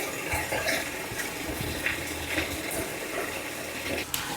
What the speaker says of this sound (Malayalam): തുളുമ്പിക്കൊണ്ടിരിക്കുകയാണ്. വെള്ളം ഓൾമോസ്റ്റ് നിറഞ്ഞു.